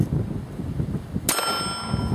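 A single shot from a used STI pistol strikes a steel target outdoors: one sharp crack followed by a bright metallic ring that decays slowly over light wind noise.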